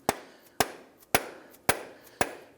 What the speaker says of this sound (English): we're going to use our dead blow hammer, and we're going to work this and tap the axle in